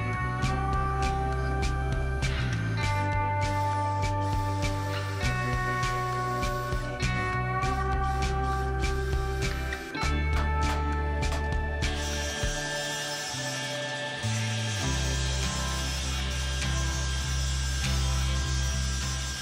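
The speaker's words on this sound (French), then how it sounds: "Je vais les confectionner de forme ronde à la scie circulaire." A circular saw cuts round wooden pieces in a workshop, its motor whine and harmonic drone holding close and loud throughout, with the pitch dipping and shifting as the blade bites into the wood.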